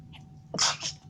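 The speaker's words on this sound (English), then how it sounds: "Oh my gosh, I feel like I'm gonna sneeze again." One close, abrupt sneeze with a quick intake before the explosive burst, short and alone over quiet background hum.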